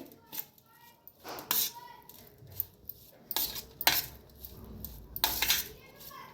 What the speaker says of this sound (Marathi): आता चमचनं का नाही सगळं मिक्स करून घेऊया